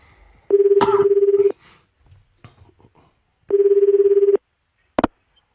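A telephone rings with two long, steady electronic bursts separated by a pause, loud and close in a radio studio, with faint rustling in between and a short click as the call is picked up.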